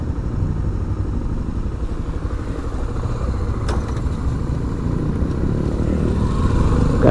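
A motorcycle engine runs steadily and close by, a continuous low rumble that grows slightly louder toward the end, with a brief clatter partway through.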